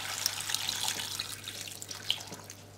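Water pours from a tap into a stew pot of pork neck with garlic, potatoes and carrots, a steady close splashing and trickling with a few bright drips, fading slightly toward the end.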